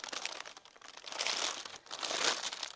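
Plastic packaging of a quilting kit crinkles and crunches in continuous swells, close by and moderately loud, with no talk over it.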